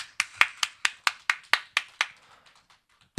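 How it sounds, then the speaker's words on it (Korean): A congregation clapping hands together in a steady, even rhythm, about ten sharp claps close by, loud at first and then trailing off into softer scattered claps. "박수를 쳐주는 거예요."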